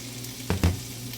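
Carrots hit a hot pan of shrimp and asparagus stir fry, giving two quick close bursts of sizzling and clatter over a steady low frying hiss.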